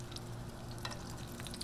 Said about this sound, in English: you can hear the sizzle. That's what you want to hear when you drop them in.